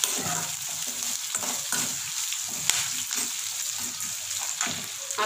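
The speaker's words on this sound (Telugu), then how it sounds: "ఇందులోనే నేను కరివేపాకు యాడ్ చేసుకుంటున్నాను ఫ్రెండ్స్" Curry leaves frying in hot oil while cooking tomato bath, a steady soft sizzle with occasional light stirring clicks and spatters, close and moderately quiet.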